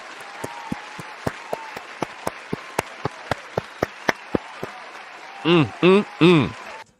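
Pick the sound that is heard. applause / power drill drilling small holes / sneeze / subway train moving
applause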